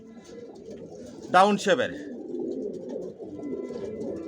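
Racer pigeons in a breeding loft give a brief close coo burst with a second short call, rising above a steady murmur of background voices and loft noise.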